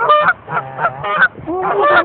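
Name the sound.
geese honking while being fed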